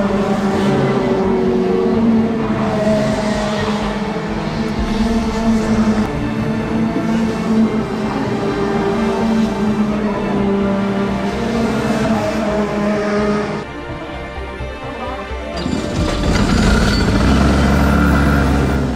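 A Rotax Max go-kart engine running on a track, a loud, continuous droning buzz holding steady pitch, dipping briefly near the end before surging back up to full volume.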